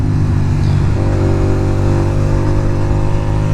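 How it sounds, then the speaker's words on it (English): Honda VTR 250 motorcycle engine with a loud exhaust, idling steadily and then revving higher after about a second, a continuous close-up drone on an old bike. "just give a little bit of a rev"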